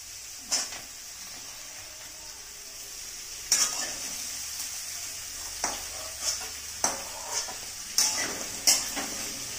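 Vegetables for a mushroom curry fry in a pan over a soft background sizzle, broken by about eight sharp spatula scrapes and knocks against the metal that come more often toward the end.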